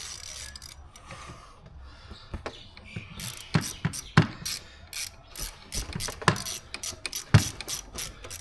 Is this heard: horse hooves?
no